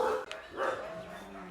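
Dogs at an animal shelter bark and yip in a few quick bursts, fairly close, mixed with a background murmur of voices.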